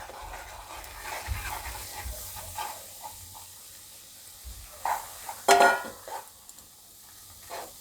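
Crushed bajra rotla stirred into melted jaggery in a pan over a low flame, with soft sizzling and scraping strokes, a couple of louder clatters of the spoon, and no talk.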